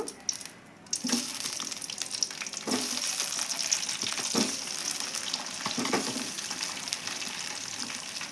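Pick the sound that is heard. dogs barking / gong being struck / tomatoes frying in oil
tomatoes frying in oil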